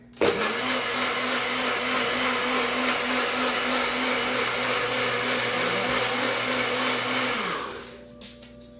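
A blender whirs a green smoothie in one loud, steady run of about seven seconds, then spins down and stops, with no talking.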